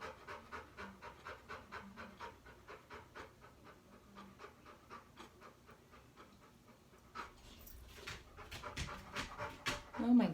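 An excited dog pants fast and steadily in short rhythmic breaths close by, growing louder and more agitated toward the end, with a person talking softly in between.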